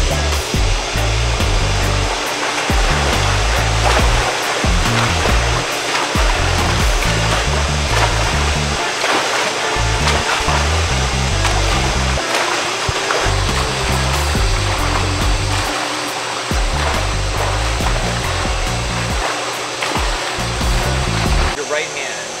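A swimmer training freestyle for an Ironman strokes through the water, and each hand entry lands as a loud, loose splash. Continuous rushing water runs beneath the rhythmic strokes, heard close by.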